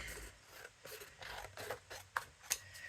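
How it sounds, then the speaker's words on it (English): Scissors snip through paper along a card guide in quick, faint cuts and light scrapes, several short strokes heard up close in a quiet room. "use the card as my cutting guide to cut"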